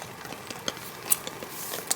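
A utensil scrapes and taps against a pot of tomato sauce cooking at a rainy campsite, light irregular clinks and soft scraping close by with no voices.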